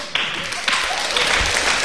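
An audience claps in brief bursts, scattered then fuller hands applauding an actor, fairly close and moderately loud.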